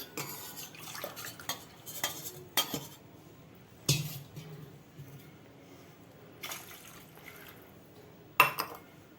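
Kitchen clatter of metal utensils against pans, with a brief splash of two tumblers of water poured into thick tomato gravy among the clinks and knocks.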